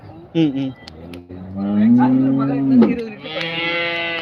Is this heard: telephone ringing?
no